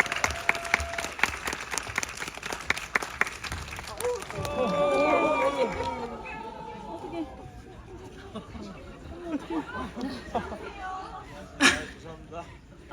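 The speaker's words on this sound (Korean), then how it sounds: "박수로 두 분 환영해주세요" Cinema audience at a CGV screening Q&A claps to welcome a film director and an actor, with dense applause that swells and then fades into crowd murmur, footsteps and voices.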